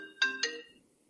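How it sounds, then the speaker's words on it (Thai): A phone ringtone plays two quick, bright tonal pulses close by, then fades into near silence. "โทรศัพท์ครับโทรศัพท์ครับ"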